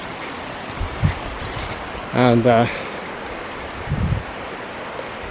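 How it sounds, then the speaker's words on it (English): Glendalough River flowing, a steady broadband rush of running water close by, with a brief spoken word and some wind buffeting over it. "this river is the Glendalough River"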